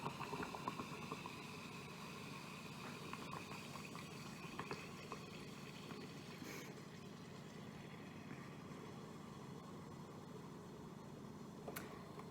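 Baking soda poured into vinegar during a home balloon experiment fizzes and bubbles softly, a faint, continuous frothy crackle with a few sharper pops.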